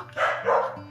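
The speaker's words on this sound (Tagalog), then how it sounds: "Kita niyo yung aso ko? Kulang sa pansin din yan eh." A pet dog gives a quick pair of close, moderately loud barks or yips outdoors in autumn in Canada, with no talking over them.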